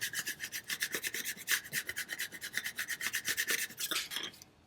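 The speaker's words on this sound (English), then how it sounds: "So I'm just going to go ahead and give that a rub again." Vinyl transfer being rubbed onto a surface, a fast, even back-and-forth scraping rasp of many close strokes that stops abruptly at the end.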